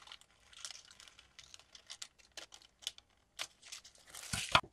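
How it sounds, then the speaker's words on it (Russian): Scissors cut the neckline of a tracing-paper pattern through two layers, giving soft, irregular crisp snips and paper crinkles. The sound is close but quiet, with a louder rustle at the end and no speech. "И вырезаю горловину"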